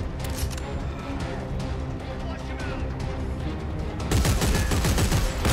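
Gunfire crackles in the Dead Space 3 video game during close-quarters combat against Necromorphs, rapid bursts layered over a dense game soundscape that grows louder and busier toward the end.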